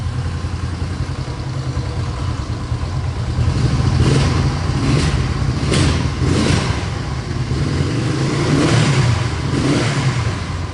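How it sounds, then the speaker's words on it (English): A 1970 Honda SL350 motorcycle fitted with the CL model engine runs nearby, its mid-pitched exhaust rising and falling through several throttle blips over a steady idle, loud and alone with no talk. "So Mac, when he had the bike apart, he upgraded the engine to the CL model engine"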